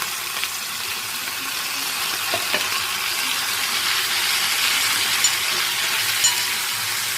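Grated radish sautéing in a pan, giving a steady, close hiss of frying that runs throughout, with a few faint clicks of stirring and no voices.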